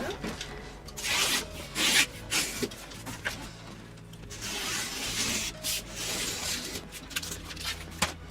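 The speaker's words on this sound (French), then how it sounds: "Maintenant, nous allons découper la seconde plaque, c'est-à-dire un côté." Cutting a cardboard panel square for a piece of furniture, with a steady scraping and rasping that rises and falls in bursts, close by, while faint speech occasionally sits underneath.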